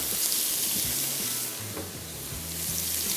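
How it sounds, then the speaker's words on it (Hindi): Chicken pieces sizzle and fry in a very hot pan, a dense crackling hiss that holds steady, with occasional clinks and stirring sounds underneath. "सबसे पहले पैन में हमने चिकन डाल दिया, इस तरह खुला खुला डालेंगे। पैन खूब गर्म होना चाहिए"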